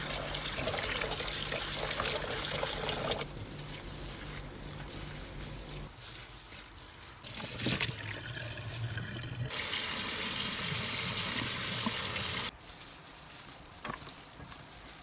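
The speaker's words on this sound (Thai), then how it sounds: "ครบเวลาแล้วนำมาล้างน้ำ1-2 รอบค่ะ" Bamboo shoots are rinsed under running tap water while pickled bamboo shoots are prepared in a kitchen, a continuous close splashing flow that changes character as the stream and the handling shift.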